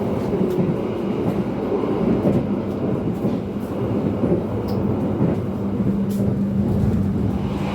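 Steady low rumble of a moving train from inside the dining car, with continuous rolling noise and faint rattles, no talking.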